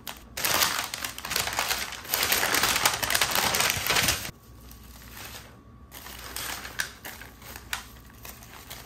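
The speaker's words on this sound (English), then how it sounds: "let's unwrap it, see what it's looking like" A cheesesteak sandwich unwrapped from its paper wrapping, loud close crinkling and rustling paper for about four seconds, then quieter intermittent crinkles.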